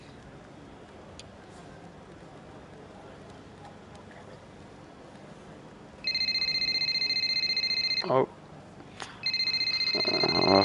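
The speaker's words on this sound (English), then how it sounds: "a phone call." A phone rings in the F1 25 racing game, with two sustained electronic ring bursts separated by a short gap over quiet background ambience, and a brief voice interjecting.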